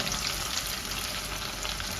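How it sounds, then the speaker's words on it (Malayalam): Garlic and chillies fry steadily in hot oil for tomato thokku, a dense, continuous close sizzle with no talk over it. "ഇപ്പോൾ വെളുത്തുള്ളിയൊക്കെ നന്നായിട്ട് മൊരിഞ്ഞ് വന്നിട്ടുണ്ട്."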